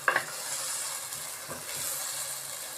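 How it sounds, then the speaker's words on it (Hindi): Minced meat (keema) frying in a pan with onion, garlic and ginger, giving a steady, soft sizzle broken by a few scraping stirs near the start and again partway through. "कीमे को हमने प्याज और लहसुन अदरक के साथ सही तरीके से फ्राई करना है"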